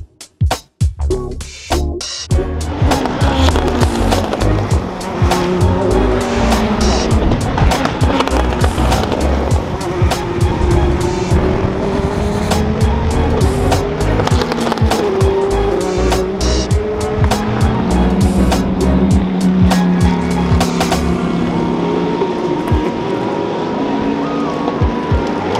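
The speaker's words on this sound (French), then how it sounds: "on est en bord de piste et ça roule. Le virage est ultra impressionnant, on arrive à faire une longue ligne droite, ça arrive à fond, gros freinage" Race cars at the 24 Hours of Le Mans roaring past close to the trackside after a long straight, with repeated loud engine surges, hard braking and clattering mechanical bursts that continue densely throughout.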